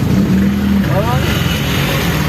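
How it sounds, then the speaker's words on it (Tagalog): A motorcycle passes on a road in Marilao, Bulacan after a collision, its engine note rising and falling briefly over steady nearby traffic noise, with people talking throughout. "Yan o, motor."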